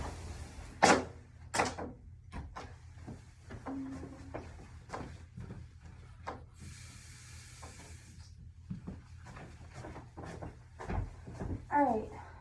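A curtain or door is pulled shut in a medical exam room, heard as a brief rattling slide lasting a couple of seconds amid scattered soft handling knocks and low room hum.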